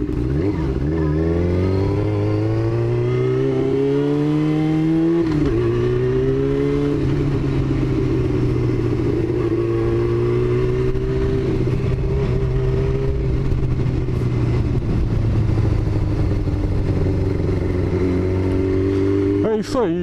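A motorcycle engine drones steadily up close, its pitch rising and falling as the rider shifts and accelerates, with wind rumble throughout.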